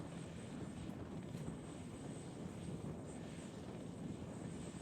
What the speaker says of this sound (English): Cougar lifted off.